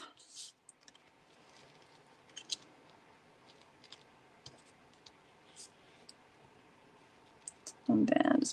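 Scissors snipping through a sticky sheet of adhesive dimensionals for a card project, with faint, scattered clicks and small cuts close by, followed by a brief burst of louder handling at the end.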